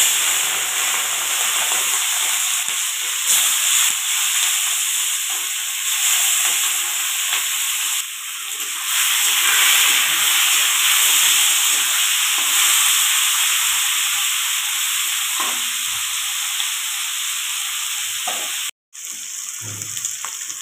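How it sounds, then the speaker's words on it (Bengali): Prawns sizzle and spit in hot mustard oil in a wok, a dense, steady crackling hiss that stays loud and close for the whole stretch, with brief stirring scrapes and a single sharp dropout near the end. "এখন চিংড়ি মাছগুলোকে ভেজে নেব।"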